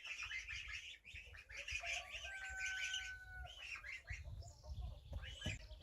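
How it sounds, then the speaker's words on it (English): Birds in a chicken house, where geese are kept, give a busy mix of honks, clucks and chirps at moderate distance, with a few thin whistling tones and light shuffling underneath. "So as you can hear, kind of in the chicken house there are some geese in there."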